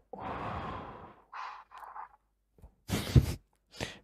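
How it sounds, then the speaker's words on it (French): Deep breaths taken during a guided breathing exercise: a long audible inhale, then a few shorter breathy puffs and a sharp exhale near the end, close and alone with no talking. "Alors, une respiration."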